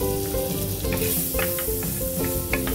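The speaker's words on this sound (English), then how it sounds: "Put butter in our frying pan." Butter sizzles and crackles in a frying pan, a continuous close frying hiss with a steady sputter and no voices.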